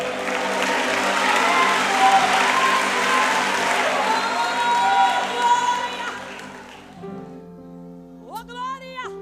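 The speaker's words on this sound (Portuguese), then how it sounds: "Você pode aplaudir ao nome do Senhor nessa tarde." A congregation at a church conference applauds and cheers loudly, a crowd of clapping with whoops and shouts that dies away toward the end as a voice and music begin.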